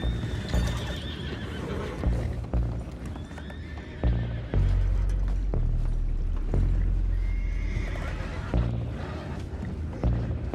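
Horses neigh and whinny loudly amid clattering hooves and busy movement in Red Dead Redemption 2, with a few irregular bangs, close by and continuous.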